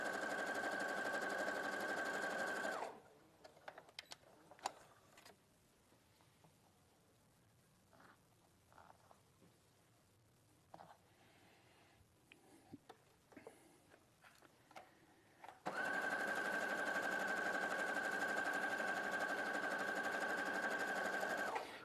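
A sewing machine stitches patchwork rows together in a fast, steady whir. It runs loud and close for about three seconds, goes quiet while fabric is handled, then starts again for the last six seconds.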